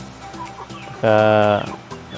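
Free-range native heritage-breed chickens in a backyard poultry yard: soft repeated clucks, then one loud, drawn-out squawking call from a nearby bird before the quieter clucking returns.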